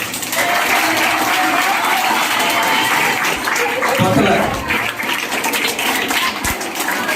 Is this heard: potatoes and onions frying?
no